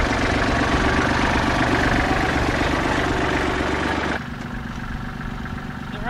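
A tractor with a three-point post hole auger attached idles close by with a loud, steady diesel rumble and knock, dropping in level after about four seconds as the engine note eases.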